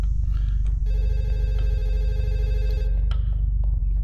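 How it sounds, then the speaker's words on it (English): A phone in the video game Fatal Midnight rings in a single bright, sustained electronic trill of about two seconds over a constant low droning hum, with faint clicks around it. "Why does the phone keep ringing?"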